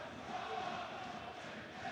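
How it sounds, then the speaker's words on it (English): Peterborough United supporters at an away football match against Wrexham, a steady distant crowd roar with a sustained chanting tone, continuous and fairly even throughout. "it's the Peterborough fans you can hear making that terrific noise"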